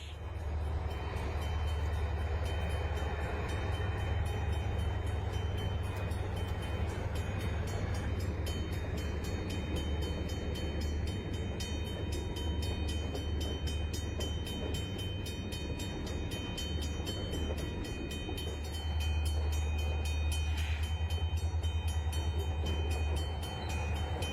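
Locomotive number 5332 pulling eastbound out of Minard at the western foot of Tennessee Pass, a steady low rumble of rail cars rolling on with continuous mechanical drone.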